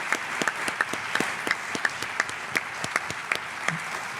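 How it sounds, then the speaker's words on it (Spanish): Audience at the II Jornadas de Misterio conference in Zamora applauds Nando Domínguez and Miguel Ángel Moyano with a steady, rhythmic patter of distinct claps at an even pace, moderately loud with a soft room murmur underneath. "un fuerte aplauso para Nando Domínguez y Miguel Ángel Moyano"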